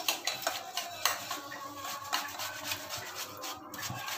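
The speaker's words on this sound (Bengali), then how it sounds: "এরকম গ্রেটার নিয়ে, গ্রেটার দিয়ে আমরা এটাকে কুচি করে নিব" A watermelon is shredded on a hand grater with a quick, rhythmic series of wet rasping scrapes, close and moderately quiet, stroke after stroke.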